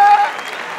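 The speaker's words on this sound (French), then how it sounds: "On applaudit un Chinois." A short, close burst of audience applause in a comedy show setting, loud at first and quickly fading, with a voice over it.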